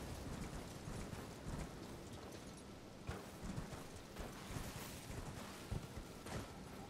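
Horse galloping in the video game Elden Ring: a continuous quick rhythm of hoofbeats, soft and fairly distant, with no voices.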